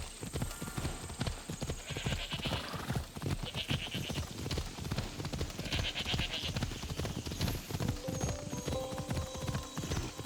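Steady clip-clop of hooves plodding along in the video game Assassin's Creed Odyssey, with a horse neighing and whinnying a couple of times over a busy, game-like ambient background.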